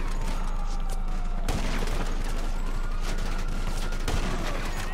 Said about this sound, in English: just standing here getting shot at and firing bullets into